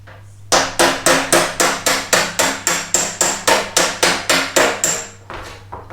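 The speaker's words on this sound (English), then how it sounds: "You use the dolly and you use the hammer." Steady metallic hammer blows on a dolly while straightening a bent car body panel on a Subaru, about fifteen evenly spaced sharp strikes, loud and close, with no talking.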